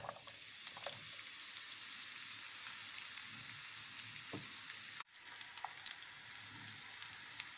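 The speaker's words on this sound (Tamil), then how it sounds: "இப்போ நம்ம எடுத்து வச்சுருக்க ஜுக்கினியை வந்து போடுறோம்." Zucchini frying in hot oil, a faint, even crackling sizzle throughout, briefly dipping midway before resuming with light pops.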